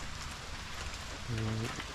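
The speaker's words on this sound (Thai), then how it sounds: "ก็ฝนตกนะ ก็ฝนตกเหมือนเดิม" Steady rain falls in a broad, even hiss throughout, with a brief low hum cutting in near the end; no one speaks.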